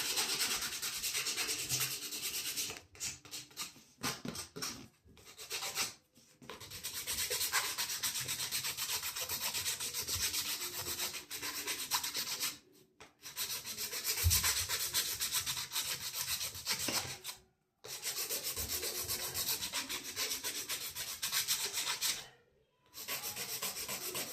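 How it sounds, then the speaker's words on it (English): Repeated scratchy rubbing strokes of a file and buffer working a fingernail, continuous and close, broken by a few short pauses. "take the files before you buff and go over the nail"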